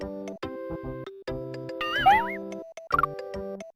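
A cartoon cat meows in the SNES game Mario's Early Years: Fun With Letters, a short synthesized mew over chiptune music with bouncy tones before and a few blips after.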